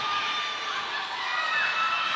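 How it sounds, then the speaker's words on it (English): A crowd at a flat-track roller derby game cheers and shouts, a bright, sustained wash of voices and whistling that stays fairly steady and swells slightly near the end. "Seems like the crowd likes it."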